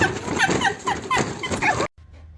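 Dogs yip, bark and whimper in quick, excited bursts close by for about two seconds before the sound cuts off abruptly to near silence.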